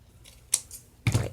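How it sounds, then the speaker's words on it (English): Scissors snip through paper and embellishment scraps during a journal purse craft project, giving two short, crisp cuts with a faint rustle between them, quiet and close with no talking. "with my scissors."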